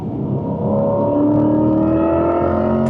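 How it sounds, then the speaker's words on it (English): A Corvette E-Ray hybrid pulls hard under roughly three-quarter throttle, with a steady engine and electric-motor drone whose rising whine climbs in pitch over a few seconds, loud and close from inside the cabin. "when you hit that 3/4 throttle and that hybrid motor kicks in, geez, this thing pulls"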